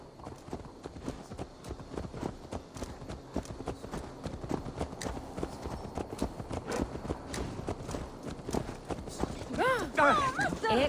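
Horse hooves clip-clop steadily in an Assassin's Creed game set in a 9th-century city, a continuous rhythmic trot at moderate distance mixed with ambient crowd noise, with a voice rising near the end.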